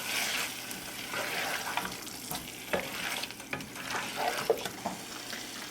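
Potatoes and fried prawns being mixed into masala in a pan for prawn pulao, soft sizzling with irregular scraping and clinking strokes of a spoon, fairly quiet and close, no voices.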